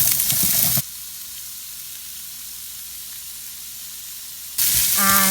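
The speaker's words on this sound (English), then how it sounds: "I'm going to fry our paneer in this pan fry and let it brown on all the sides" Paneer frying in ghee in a pan hisses in a soft, steady sizzle, framed by brief louder bursts of frying noise at the start and end, the closing one with music alongside.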